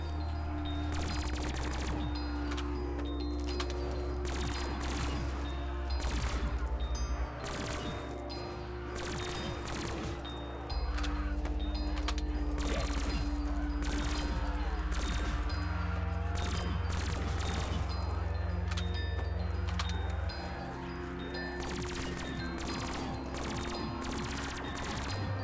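Rapid bursts of video-game gunfire crackle steadily over a loud, constant background of game music and low rumble, the shots packed close together throughout without letup.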